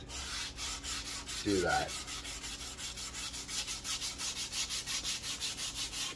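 Hand sanding the wood body of a bass guitar with 220 grit sandpaper, a close run of rhythmic rasping strokes, briefly interrupted by a short voice remark.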